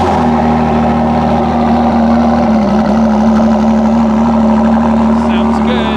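A car engine runs at a steady, close, droning idle throughout, with a low constant hum and no clear break or rise in pitch.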